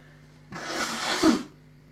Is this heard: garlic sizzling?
no